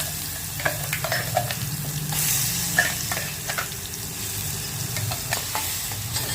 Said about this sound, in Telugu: చట్నీలకు పోపు శనగపప్పు, మినపప్పు వేసిన